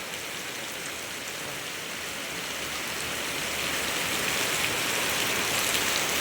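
Heavy, sudden rain falls in a steady dense hiss, drops pattering on surfaces close by and growing slightly louder toward the end.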